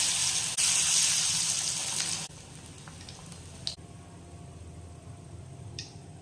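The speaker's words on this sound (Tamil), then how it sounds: "நான் வாழைப்பூவை நல்லா தட்டி நான் எண்ணெயில் சேர்த்துக்கிறேன்." Banana flower fritters, a traditional Tamil vadai, fry in hot oil with a loud, rushing sizzle that drops to a softer, steady crackle partway through, broken by a few faint clinks.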